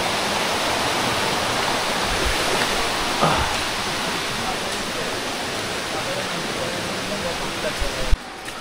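Rushing water from the top of Shoingong waterfall, a wild jungle falls beside a steep gorge, roars as a steady, dense, close wash of white noise throughout, with only a few faint knocks near the end.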